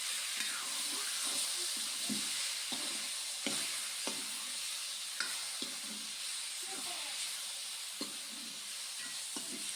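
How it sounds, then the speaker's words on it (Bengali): Chopped bottle gourd is stirred through onions fried until reddish in a pan with five-spice seasoning, giving a steady close hiss and sizzle with frequent scraping strokes of the spoon throughout. "এবার আমি লাউটা দিয়ে দিলাম এবার আবার ভালোভাবে নেড়ে চেড়ে নেবো"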